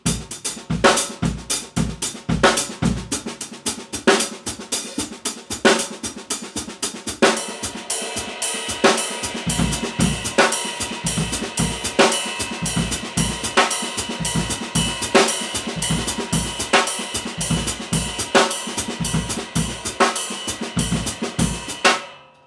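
A drum kit plays a steady groove with regular hits; a bass drum and hi-hat join partway through, filling out the beat. No talking.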